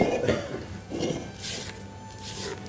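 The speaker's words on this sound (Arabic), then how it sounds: "بنرجع نقلب" A spoon scrapes and stirs peach upside-down cake batter in a bowl, producing soft rhythmic swishes and occasional clinks against the bowl in several close, quiet strokes.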